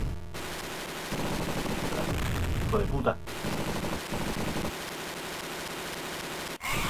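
Gunfire from the Sega Mega Drive game Robocop vs Terminator, rapid electronic shots blasting loudly under game noise, with a voice breaking in near the end.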